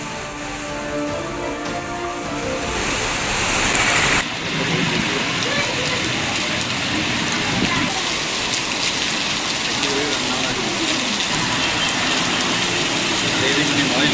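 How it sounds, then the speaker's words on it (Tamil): Heavy rain pours steadily around Kambam in Theni district, Tamil Nadu, a dense continuous hiss with a brief louder gush at the start and a faint engine-like rumble underneath. "தேனி மாவட்டம் கம்பம் சுற்றுவட்டார பகுதிகளில் 1 மணி நேரத்திற்கும் மேலாக மழை."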